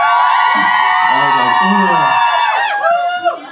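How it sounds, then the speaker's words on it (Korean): A concert audience lets out loud, sustained high-pitched cheering and screaming, close and dense, which breaks up near the end amid a few shouts and a voice. "관객분들 함성 소리가 안 들려요?"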